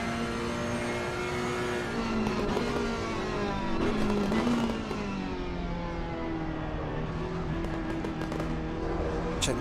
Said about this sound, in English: Listen for the engine.